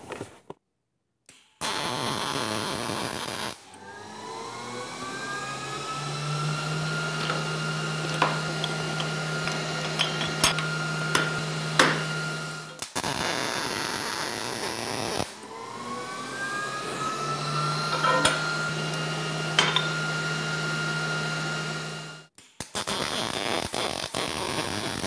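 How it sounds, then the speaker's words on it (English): Two long, steady welding passes join the tube joint of a storage rack, each a sustained buzzing hiss with crackles lasting several seconds, separated by a brief gap, close and moderately loud. "I've already got the first one set up and let's go ahead and make the weld."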